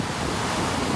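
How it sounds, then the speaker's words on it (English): Ocean waves roll in on a beach in North Naples, Florida, a steady, close, continuous wash of surf with some wind rumble against the microphone and no voices. "Take a minute here to just enjoy the sounds of the waves"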